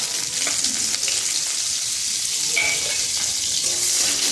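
Chopped onion sizzling in hot mustard oil in a kadai, a steady close hiss of frying with occasional stirring scrapes, no talking.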